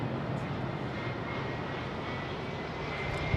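An airliner at London Heathrow Airport on a windy day gives a continuous broad roar, steady and loud throughout with no clear rise or fade.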